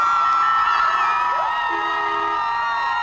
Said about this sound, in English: Hundreds of Trojan fans eagerly awaited the Trojans to cheer them on for their hard-fought 6-point loss